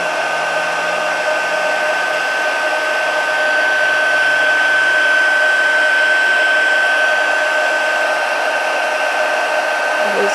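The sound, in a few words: heat tool blowing hot air to melt crystals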